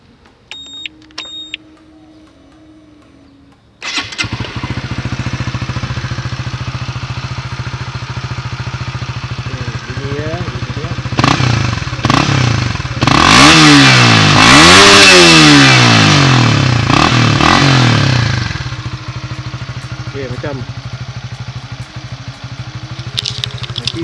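A Honda RSX fitted with a Kozi 32mm exhaust cranks and starts after a few quiet clicks, settles into a loud idle, then revs hard several times in rising and falling sweeps before dropping back to idle, close up with no talking.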